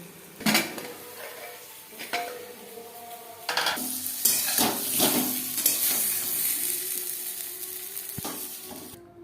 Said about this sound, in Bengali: লবণ হলুদ আলু হালকা করে ভেজে নেব